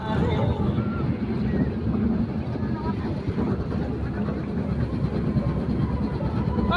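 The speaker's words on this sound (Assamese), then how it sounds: "ট্ৰেইনত উঠিছোঁ।" A fairground train ride rolls along with a constant loud low rumble and faint rhythmic rattling. People talk throughout, partly covering the ride noise.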